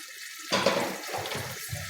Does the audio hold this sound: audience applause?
no